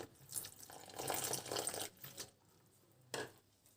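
Water poured into a bowl of flour and besan while mixing papdi dough, a faint trickling splash in irregular bursts with a short gap before one last brief pour.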